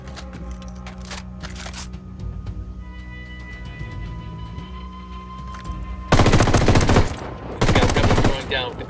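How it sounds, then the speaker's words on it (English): Automatic gunfire in Ghost Recon Wildlands, loud rapid bursts erupting after quieter ambience and scattered clicks, with a short pause between two sustained volleys. "Opening fire."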